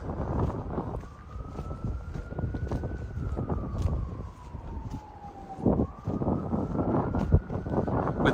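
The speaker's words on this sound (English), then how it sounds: "With the sirens blaring" An emergency siren wails with a slow rising and falling pitch over steady winter wind and downtown Lexington street noise, fairly close and loud throughout.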